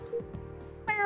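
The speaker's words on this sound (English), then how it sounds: "Is this the resident cat?" A cat meows in the video game Coffee Talk, two short soft mews followed by a brighter, louder meow near the end, alone without talk.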